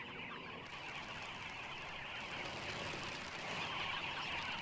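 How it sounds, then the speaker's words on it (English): A flock of dozens of wild birds comes and goes, making a dense, steady bustle of calls and wingbeats that fills the whole stretch and grows slightly louder toward the end, with no voices. "The noise and bustle of dozens of birds coming and going make it stop drinking twice."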